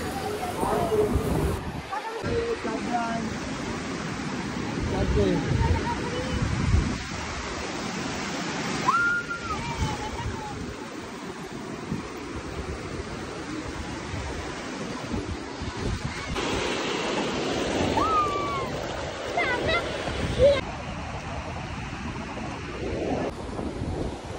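Surf rolls in continuously on Digha Mohona beach, mixed with heavy wind buffeting the microphone and a faint background crowd murmur, with a few brief whistling sounds.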